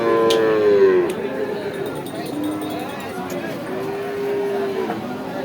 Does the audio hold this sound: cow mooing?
yes